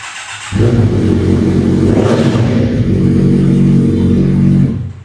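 A Kawasaki Ninja 1000 SX motorcycle engine revs up abruptly and holds a loud, throaty drone close by for several seconds before cutting off.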